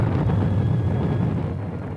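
An atom bomb explosion gives a deep, loud, sustained rumbling roar that fills the whole moment and slowly eases off.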